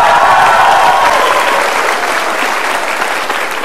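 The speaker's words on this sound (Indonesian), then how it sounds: "Kita berikan tepuk tangan dulu buat Mbak Tiwi." A studio audience on Mario Teguh's talk show gives a full, sustained round of applause for a guest. The clapping is dense and loud throughout and eases slightly toward the end.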